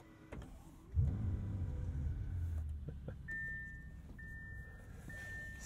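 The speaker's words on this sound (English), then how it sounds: "a tremendous rumble from the W12 on startup" A 2022 Bentley Continental GT Speed's W12 engine cranks and catches with a sudden deep rumble, then settles into a low, steady idle, heard close from inside the cabin, with a few faint clicks and soft electronic chimes following.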